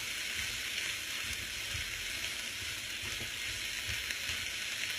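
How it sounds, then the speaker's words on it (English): Shrimp and vegetables sizzling in a stir-fry pan, a steady close crackling hiss with small pops, no voices. "we're doing a shrimp stir fry"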